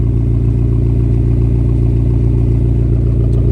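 A 2020 McLaren GT engine and exhaust give off a loud, steady, low burbling drone, close and continuous with no talking.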